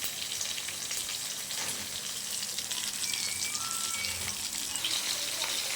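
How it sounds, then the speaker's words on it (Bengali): Fish fries in hot oil in a pan with a steady, dense sizzle and crackle close to the listener, and nobody speaks. "আমি মাছ ভাজা বসিয়ে দিয়েছি।"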